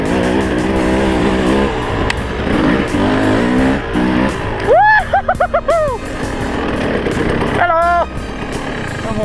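A motorbike on a single-track trail revs nearby, its engine note rising and falling in short sweeping bursts before it stalls, with a voice heard briefly.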